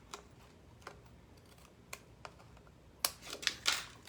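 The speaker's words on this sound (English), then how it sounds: "and cut off that extra." Excess paper being cut away from an embossed card panel, a few sharp, close clicks and snips that get louder and busier toward the end, no voices.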